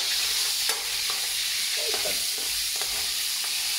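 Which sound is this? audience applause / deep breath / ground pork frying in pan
ground pork frying in pan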